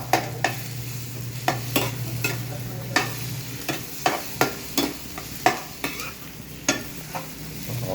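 Sisig cooking in a pan, a steady sizzle broken by repeated sharp scrapes and clinks of a utensil stirring the meat at a fairly even rhythm.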